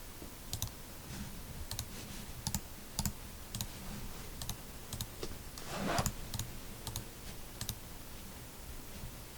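Computer mouse clicks while working in a Microsoft Access form, sparse sharp clicks spaced a second or so apart, quiet and close over a faint background hum, with no talk.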